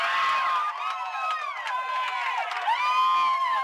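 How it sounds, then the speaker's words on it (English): Crowd at a high school baseball game between the Bethel Bruins and Kecoughtan Warriors, cheering and shouting with many overlapping voices and whistles, continuous and fairly loud. "The crowd trying to rattle Mr. Wheeler a bit."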